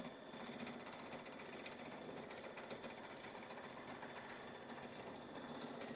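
A Kimberbell embroidery machine stitches out background quilting in a steady, continuous mechanical hum and whir that never breaks, close by and moderately loud, with no talk over it.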